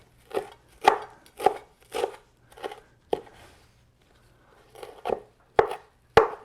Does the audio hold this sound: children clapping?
no